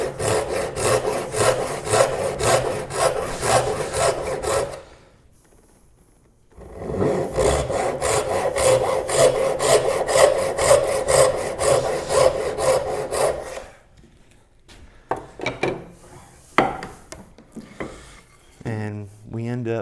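A hand saw cuts down into a wooden tenon for a Moravian workbench, two long runs of steady back-and-forth rasping strokes separated by a short pause, close and loud, followed by quieter handling knocks.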